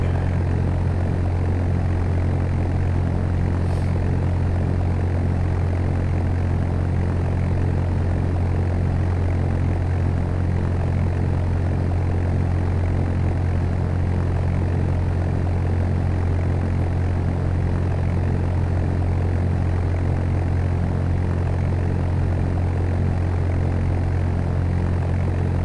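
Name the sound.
aircraft taxiing in the video game Fly! II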